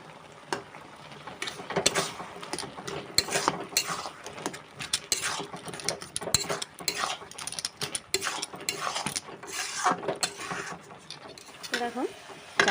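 A spoon stirs thick canteen-style Bengali ghugni (pea curry) in a pan, making repeated close scraping and clinking strokes that run irregularly throughout.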